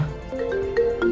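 A short melodic electronic ringtone plays a quick sequence of bright notes, clear and close, lasting about a second.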